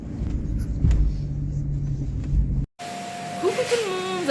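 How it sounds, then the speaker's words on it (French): A household vacuum cleaner runs steadily as a loud, close droning roar beneath a voice, then cuts off abruptly, leaving quieter room sound and more talking. "désolée pour le bruit, c'est l'aspirateur"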